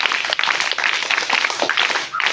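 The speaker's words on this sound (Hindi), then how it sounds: "तो सबसे पहले एक बार आप लोगों को एक से ताली बजाकर हम कार्यक्रम की शुरुआत करते हैं।" Audience applause at the opening of a Hindi-language programme about the Indian tricolour flag, a dense, steady patter of many hands clapping close by for a couple of seconds, then tapering off.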